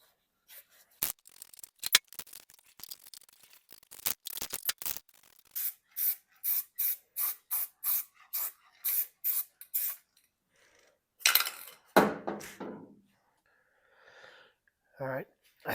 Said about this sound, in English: Shoot some weld through primer